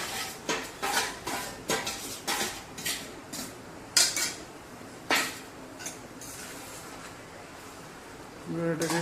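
Marinated chicken for biryani is stirred in a metal pot. A spoon gives a run of rhythmic scraping clanks with short pauses between strokes, close and fairly loud.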